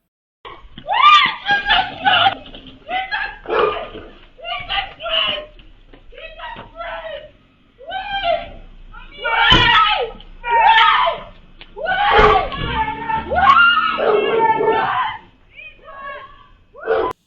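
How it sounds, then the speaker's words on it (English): A woman screams repeatedly while running down a stretch of roadway, chased by two men who snatch her handbag; loud, strained cries come in uneven bursts, picked up by a CCTV camera. "the female could be heard screaming down the stretch of roadway while the males made good their escape"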